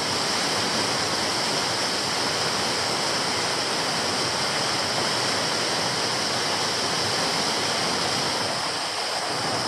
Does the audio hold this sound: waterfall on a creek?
yes